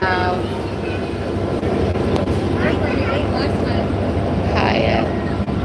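A continuous train rumble with rattling cars of the Santa Cruz Big Trees and Pacific Railroad fills the clip, loud and close, while voices talk faintly over it.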